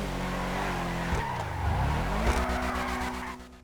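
An Ubermacht Cypher in GTA Online accelerates hard with tires squealing and skidding, its engine note swooping down and back up as it shifts, loud and close with no voices.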